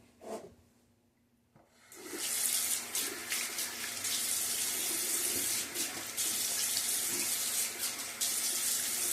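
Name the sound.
water running from tap to wet face for shaving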